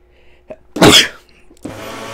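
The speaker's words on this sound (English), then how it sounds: "I'm going to sneeze as well." One loud, sharp sneeze bursts out close by, followed by a steady mechanical whine in the background.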